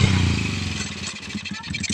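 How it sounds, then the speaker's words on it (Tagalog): A motorcycle being ridden, its engine putting along close by with uneven revving and some rattling clatter. "Ngayon ay magdrive po siya ng motor."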